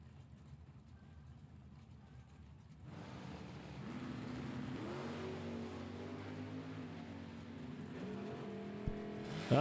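Drag racing launch at a Super Pro event in Fortville, Indiana, as a Camaro and a Chevelle leave the line: a low idle rumble swells into a loud, sustained engine roar from about three seconds on, with a sharp burst at the end.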